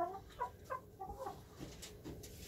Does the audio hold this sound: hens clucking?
yes